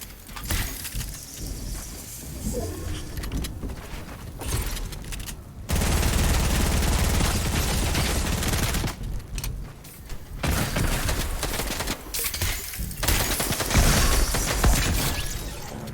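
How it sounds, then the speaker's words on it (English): Dense video game gunfire fills the scene in long rapid volleys, loud and continuous, with brief gaps and bursts stacking up in a chaotic firefight. "Yeah, I hear him shooting at you."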